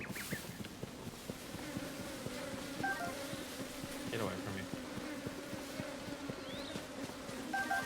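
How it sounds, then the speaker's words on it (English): Bees buzzing nearby in the game Tears of the Kingdom: a steady, droning hum that continues throughout, with a voice briefly speaking over it. "I did hear the bees. They were nearby."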